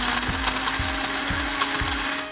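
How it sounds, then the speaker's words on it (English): A traditional kitchen blender runs loud and steady, its motor drone broken by a rhythmic knocking about twice a second, with no voices. "Here's a traditional blender."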